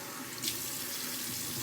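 Cold water runs from a tap into a sink for rinsing, a steady hissing splash at close range, alone without talk.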